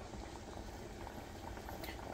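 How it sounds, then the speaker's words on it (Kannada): White pumpkin curry (Mangalore-style boodu kumbalakai sasive) bubbling hard in a pot on the stove, a dense, steady rolling boil that fills the whole moment with continuous close-up bubbling and no break. "It's boiling really good."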